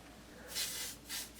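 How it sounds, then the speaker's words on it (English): Two bursts of hairspray hiss from an aerosol can, one longer and one shorter, close up with a quiet background. "Give it a bit more of a spray and a smooth if it's needed."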